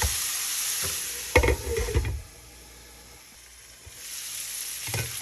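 Mixed garden vegetables sizzle and fry in a pan while a utensil stirs and scrapes through them. A steady close crackle swells with bursts of stirring, dips quieter midway, then rises again.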